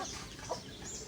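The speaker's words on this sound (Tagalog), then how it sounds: "Ganito ang ating mga alaga sa probinsya. Meron tayong mga manok." Domestic chickens kept on a rural provincial home in the Philippines cluck faintly in a short burst, soft and somewhat distant.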